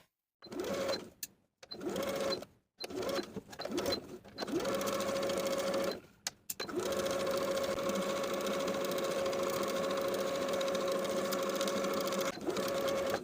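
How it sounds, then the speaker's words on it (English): Sewing machine edge stitching along the fold of a tie, starting in short stop-and-go bursts, then running in one long steady whirring stretch, close and alone without talk. "we're going to edge stitch in place from the outer point of the tie along that upper inner fold all the way to the opposite end of the tie."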